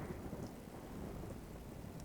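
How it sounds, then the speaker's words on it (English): Steady rain with low, rolling thunder fills the battlefield of the wartime strategy game Company of Heroes: Panzer Elite, a dense, even downpour with no voices. "This rain is a nice warm blanket of cover."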